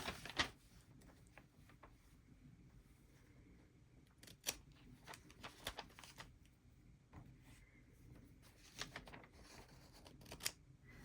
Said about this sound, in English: See if I can cut off some of that excess.